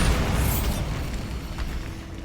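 A Bombarda spell explosion in Hogwarts Legacy bursts loudly up close, then its boom fades into a rumbling tail over about two seconds.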